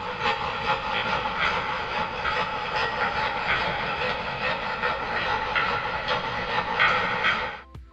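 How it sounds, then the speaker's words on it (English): An unused machinery sound effect from the video game Poppy Playtime Chapter 3: steady, loud mechanical grinding and rumbling that runs continuously for several seconds before stopping abruptly. "there's a grinding sound effect for some machinery"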